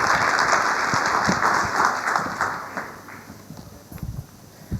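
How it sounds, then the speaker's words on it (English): Audience applause welcoming a speaker to the stage at a humanitarian-finance conference, a dense burst of clapping that thins and fades over several seconds, with a few scattered claps near the end. "With a big round of applause, please join me in welcoming her to the stage."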